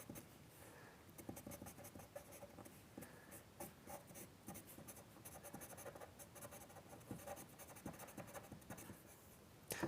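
Pastel pencil scratching across a honeycomb-textured pastel surface while sketching a road-edge landscape, a steady close dry scraping of short strokes running throughout.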